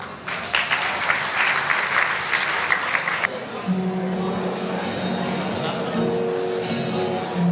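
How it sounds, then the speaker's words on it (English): Audience at a Muslim Welfare Centre community event gives a round of applause after the federal finance minister, loud dense clapping for about three seconds that then drops away under background talk. "Big round of applause,"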